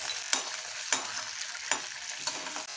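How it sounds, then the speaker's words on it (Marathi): A few spoonfuls of salted water boil and sizzle in a pan, with a steady bubbling hiss broken by four sharp spoon scrapes. "हे बघा पाणी उकळलं ना"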